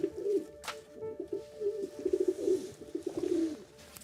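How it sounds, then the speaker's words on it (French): Pigeons cooing nearby in a quiet indoor or courtyard setting, a series of soft low throaty coos repeating in short rolling phrases, with a brief click partway through and no talk. "On entend les pigeons qui roucoulent."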